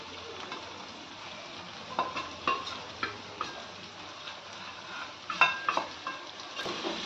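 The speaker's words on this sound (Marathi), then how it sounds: "मसाले मी टाकून घेतलेत छान तेलात असे परतवून घेणार आहे" Onion and tomato stir-fry in oil with red chili powder, garlic masala, turmeric, goda masala and garam masala, making a quiet, soft sizzle with scattered taps and clicks of a spoon against the pan.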